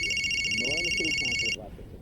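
A telephone rings with a steady electronic trill for about a second and a half, then stops abruptly while a voice speaks underneath.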